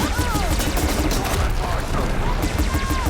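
A Ravager cannon fires in the video game Horizon Forbidden West, a dense, loud, continuous barrage of rapid blasts with bright zipping streaks throughout.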